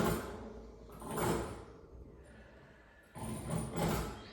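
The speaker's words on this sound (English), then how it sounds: "you'll hear the springs moving around there, that's okay" Springs of a Pilates chair shifting as the pedal moves, heard as two soft creaking, scraping bursts separated by a quiet pause, faint and close.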